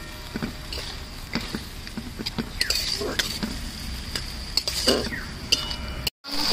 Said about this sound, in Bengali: এবার দিয়ে দিচ্ছি ভেন্ডিগুলো, ভালো করে একটু কষিয়ে নেব।